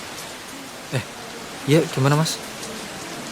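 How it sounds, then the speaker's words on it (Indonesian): Heavy rain pours in a steady, even hiss that fills the whole clip at a moderate level, while two people exchange a few brief words over it. "Hujan masih terus mengguyur tanpa henti."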